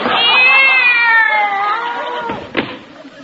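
A cat meows loudly in a long, wavering cry, a radio comedy sound effect of a cat found in a desk drawer, tapering off with a brief thump near the end.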